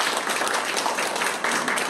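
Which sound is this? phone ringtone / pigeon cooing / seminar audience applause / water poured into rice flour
seminar audience applause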